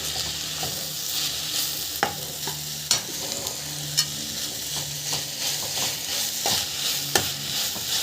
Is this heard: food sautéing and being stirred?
yes